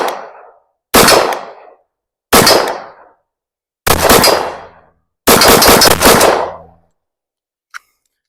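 Five loud, sharp shots from a SIG 365 XL pistol, spaced about a second or more apart, each with a short ringing decay and no talk between them.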